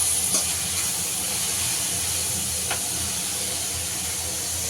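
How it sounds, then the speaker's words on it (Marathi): Milk poured into ghee-roasted bottle gourd for halwa gives a steady, even hiss of sizzling that holds at a constant level throughout, with a couple of faint clicks. "आता आपण याच्यामध्ये दूध ऍड करूया।"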